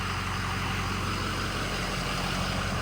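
A Ford 6.0 Powerstroke diesel pickup truck with about 4,200 engine hours and an EGR fault code idles steadily and close by, a constant low engine rumble that stays even and uninterrupted, with no talking.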